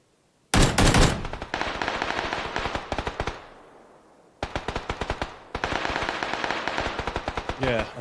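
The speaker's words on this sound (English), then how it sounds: "there's somebody banging with an AK or something. Dead close." Close AK rifle fire in the video game PUBG, with a loud opening burst followed by several rapid, sharply spaced automatic bursts separated by short pauses and a decaying echo.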